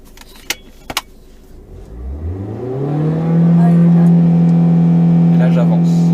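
A car engine cranks and catches, then revs and settles into a loud steady drone, close by, after a couple of short clicks at the start.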